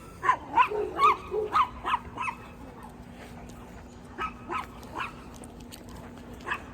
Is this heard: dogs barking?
yes